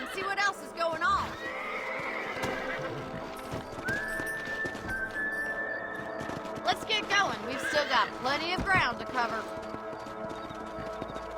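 Horse whinnies and clip-clopping hooves from the Western video game Red Dead Redemption, a rising neigh cutting through steady hoofbeats while someone talks over the scene.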